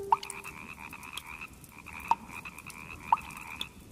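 A frog croaks in a few sharp, separate calls spaced about a second apart, fairly close against a quiet, faintly hissing outdoor background.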